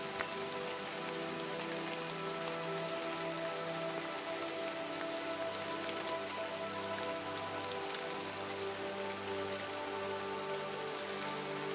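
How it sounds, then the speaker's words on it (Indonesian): Light drizzle patters steadily in a forest as the rain eases off, a continuous close rain-on-surface texture with fine drips throughout and a faint background hum. "Dan pada akhirnya hujan pun sudah mulai reda."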